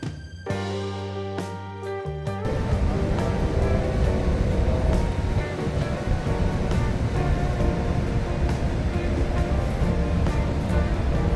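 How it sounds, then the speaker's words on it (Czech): Water rushing over the edge of the American Falls at Niagara, heard from just above the brink as a loud, steady roar that swells in after a brief tonal opening and then holds unbroken. "Tady stojíme přímo nad hranou amerického vodopádu a koukáme na masu vody z hora."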